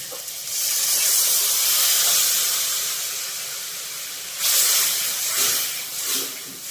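Half a bowl of milk hits hot, oil-released spice masala for egg korma, giving a loud, close hiss of steam and sizzle that eases off, then flares again in a second burst.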